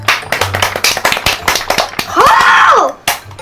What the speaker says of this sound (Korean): 자리를 양보해 준 금쪽이에게도 박수 한번 주자